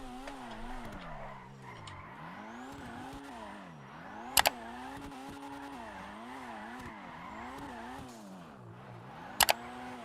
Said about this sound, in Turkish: Sese bakar mısınız ya? Supra bir başka abi.